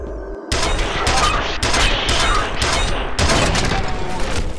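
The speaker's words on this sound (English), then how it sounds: "Is that a shotgun blast at close range, I think?" Loud, close gunfire from the F.E.A.R. video game bursts out after a brief quiet start, in several heavy blasts that run almost without a break, with no speech.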